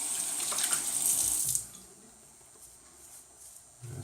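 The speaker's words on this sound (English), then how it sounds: "Let me add some water here on the face." Tap water runs into a sink for about a second and a half while a man wets his face during a wet shave, then stops, leaving quiet splashes and faint handling sounds.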